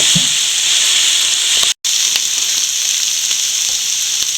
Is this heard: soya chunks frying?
yes